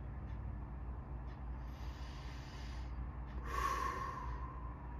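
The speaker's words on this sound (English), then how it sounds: "So take some big deep breaths." Slow, deep breathing close to the microphone, with a long airy inhale building and a stronger breath swelling near the end over a low steady background hum.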